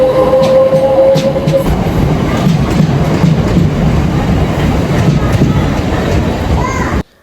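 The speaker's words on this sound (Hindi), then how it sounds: "खाली खाली ट्रेन में हम आए थे और खाली खाली ट्रेन में ही हम घर वापस जा रहे हैं" A nearly empty train runs along the rails in London with a loud, steady rumble and clattering wheels, a brief tonal squeal early on, and the noise cutting off abruptly at the very end.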